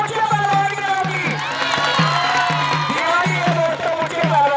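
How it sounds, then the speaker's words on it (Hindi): A large outdoor crowd at a kushti wrestling match cheers and whoops continuously, with a rhythmic drum beat pulsing underneath and loud, dense noise throughout. "ताली बजाओ पुच्चे पहलवान की नाम की।"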